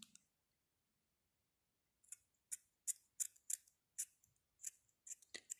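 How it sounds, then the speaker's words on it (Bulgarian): Small scissors snip at the loose yarn ends of crocheted baby sneakers, giving about a dozen crisp, quiet, close cuts in an uneven rhythm after a near-silent pause. "Само трябва да си изрежем ненужното от вървичките, да са ни еднакви от двете страни."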